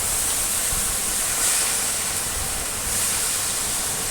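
Amaranth leaves are stirred into a hot frying pan with spices, giving off a continuous bright sizzling hiss with small swells as the greens are mixed.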